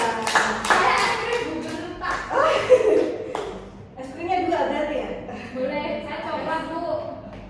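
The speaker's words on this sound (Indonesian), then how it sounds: "Tepuk tangan untuk kita semua." A small classroom group in a micro-teaching lesson claps hands in a brisk, close burst for about three seconds, then the clapping fades and a person talks.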